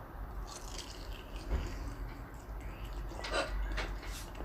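Frozen Pulmuone cheese balls are bitten and chewed up close, with soft crunchy bites near the start and later, over a quiet background of chewing.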